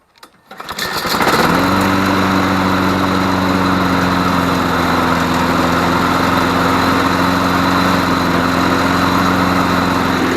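A Honda Harmony lawn mower engine is pull-started and quickly catches, then settles into a loud, steady, droning run close by with no pauses.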